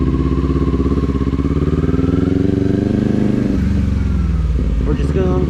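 A motorcycle on a beginner's first ride runs at a steady idle-to-low rev drone with some clatter, close and loud throughout, while people talk over it.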